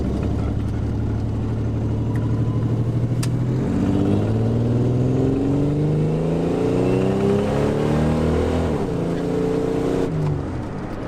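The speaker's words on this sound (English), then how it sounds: "It's definitely missing a cylinder suddenly" A Buick Grand National engine drones and revs up close with a rough, uneven note, misfiring on one cylinder, continuing steadily throughout.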